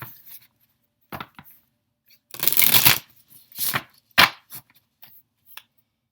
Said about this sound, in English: I am going to go ahead and pull you some tarot cards